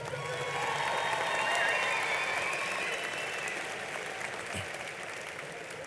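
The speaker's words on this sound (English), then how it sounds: "Let's give them all another round of applause." Crowd applause at a 2022 high school graduation ceremony, a soft wash of distant clapping that swells slightly, then eases off over about six seconds.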